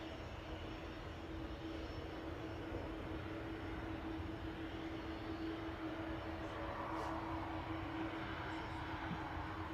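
A TUI airliner bound for Fuerteventura, just pushed back at Manchester Airport, hums with a steady engine drone and a sustained tonal whine, moderately distant, with no speech.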